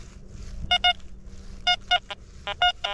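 An XP Deus 2 metal detector sounds a mixed-signal target tone, repeated short bright beeps in pairs and bursts over a low steady hum, with no talking.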